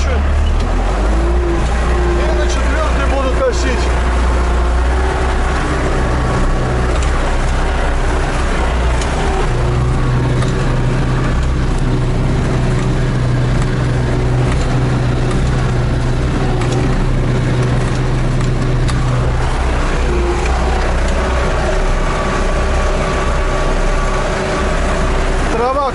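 A tractor engine droning steadily in fourth gear while mowing hay grass in a field, a loud continuous low rumble throughout with someone talking over it.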